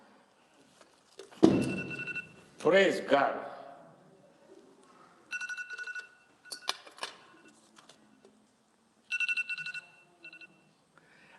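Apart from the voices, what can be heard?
telephone ringing during sermon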